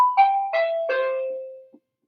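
An electric bell in a circuit rings out with three loud, clear dings spaced about a third of a second apart, each tone ringing on and fading, followed by a tiny faint click.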